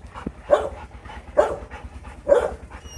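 A dog barks close by, three loud, evenly spaced barks about a second apart over a quiet background.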